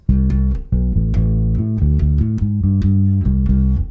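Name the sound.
bass guitar playing a riff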